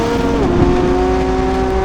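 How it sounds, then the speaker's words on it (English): Lamborghini Revuelto's V12 engine roaring loud and close on Italian roads, a sustained high-pitched scream with a quick pitch dip and rise as it shifts or revs, heard alone without talk. "an engine that screams and shouts and makes V12 noises like that"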